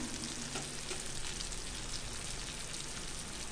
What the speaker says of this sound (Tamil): கொஞ்ச நேரம் வதங்கட்டுங்க. பாருங்கள், வதங்கிடுச்சு.